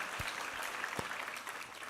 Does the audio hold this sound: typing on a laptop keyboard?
no